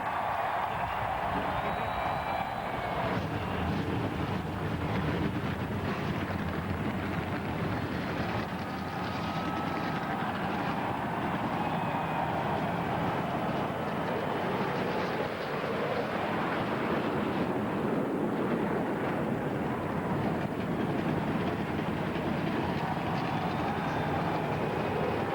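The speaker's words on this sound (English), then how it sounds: "43 cars roar to life." A field of 43 NASCAR stock cars at Dover fires up together into a dense, steady engine roar, loud and continuous, heard from a distance with no talk over it.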